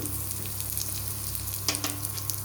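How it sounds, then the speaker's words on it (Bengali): Spices frying in hot oil for dal puri, a steady close sizzle with soft stirring clicks and a couple of brief scrapes partway through, without talk. "এটা ভাজা হচ্ছে একটু কালো হয়ে যাক"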